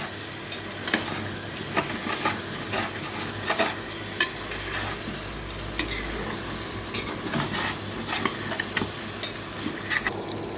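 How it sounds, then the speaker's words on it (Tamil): Mutton biryani mixture stirred and frying in ghee in a pot, a steady close sizzle broken by repeated scraping strokes of a spoon through the mixture, with no talking. "நல்லா கிளறி விட்டுக்கலாம்."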